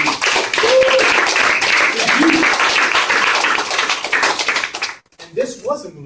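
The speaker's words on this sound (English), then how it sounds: "round of applause for Google" Audience at a community showcase and celebration event applauding, a loud burst of dense clapping with scattered cheers that fades out, followed by a speaking voice.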